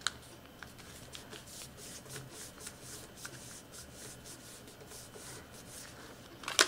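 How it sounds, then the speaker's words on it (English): Sheet of origami paper being folded for a Millennium Falcon model: soft, steady rustling and creasing close by, with a few crisp rubs and taps. "And then you'll fold it down."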